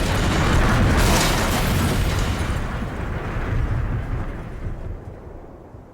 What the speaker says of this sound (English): We hit the trees. Big, horrible banging noises.